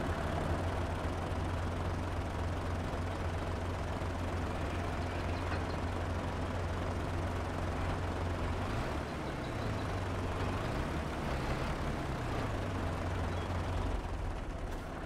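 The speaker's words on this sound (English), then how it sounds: "Start the engine." Heavy truck engine in Farming Simulator 22 at a sawmill, a steady loud low diesel rumble running throughout, with slight pitch swells near the end as the revs rise and fall.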